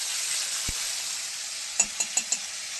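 Fish frying in an oil-filled pan gives a steady, loud sizzle throughout, with a few sharp taps or clicks near the end, likely from a spatula against the pan, and no voices.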